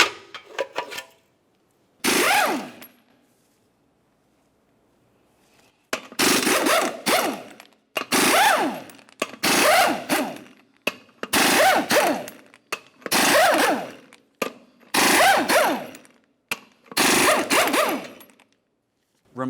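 Bursts from a power tool, likely an impact wrench, spinning off the eight 24mm lug nuts on a 1994-2002 Dodge Ram 2500 front wheel. There is one early burst, then about seven loud, close, evenly spaced bursts separated by short pauses.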